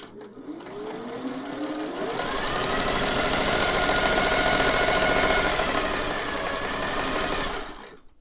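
A Singer 401A sewing machine, a thrift store find, sews a decorative zigzag-style stitch, starting with a rising motor whine, then a loud steady close whirring rattle that holds for several seconds before winding down.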